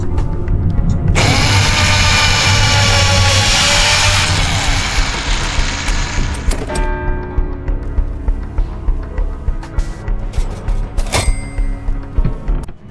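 Saw from the Buckshot Roulette-style game Bonesaw, loud continuous whirring and grinding that cuts off, followed by a series of rhythmic mechanical ratcheting clicks, no talk.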